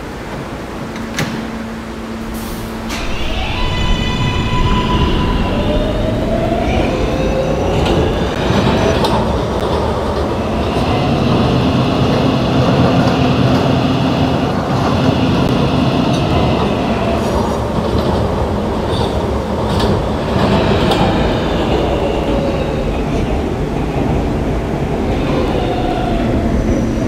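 An R143 R local subway train runs toward Myrtle Avenue: loud, steady rumble and rail noise with clicking wheels, squeals and high tonal whines rising and falling throughout, close and continuous.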